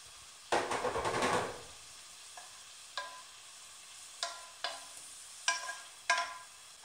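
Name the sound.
leeks sizzling in a non-stick frying pan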